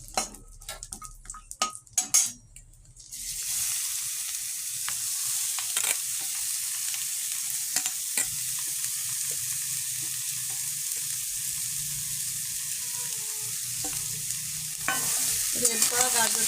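Grated carrot frying in ghee for gajar ka halwa: a few clattering stirs at first, then a steady, close sizzle with occasional spoon scrapes against the pan, with no talk.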